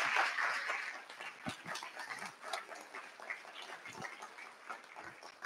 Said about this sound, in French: je crois que nous lui devons aussi une salve d'applaudissements à Marianne Tansy pour l'engagement